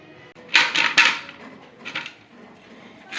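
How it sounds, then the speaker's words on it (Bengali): A knife cuts through a hard elephant apple (chalta) on a board. Sharp, fairly loud cutting knocks come in a short cluster, then one more pause-separated chop, all close and with no talk. "এখন চালতাগুলো কেটে নিচ্ছি আর চালতা কাটাটা খুবই কষ্টের অনেক শক্ত একটা ফল"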